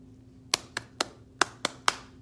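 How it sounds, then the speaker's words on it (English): Children clap back in a copycat rhythm game, six sharp, separate hand claps spaced unevenly over about two seconds, close and clear in a quiet room. "Then they clap."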